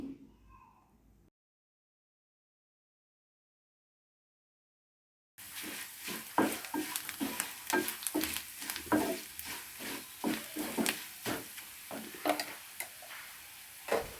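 Chopped onions fry in a pan with chili powder for a horse gram masala chaat. After a silent stretch, a steady sizzle runs under repeated scraping stirs of a spoon against the pan, close and fairly loud.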